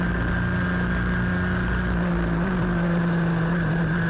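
A 250cc superkart engine at Oulton Park drops a gear and comes off the throttle, a steady loud drone with a tonal whine that wavers as revs shift, under heavy wind and road rumble.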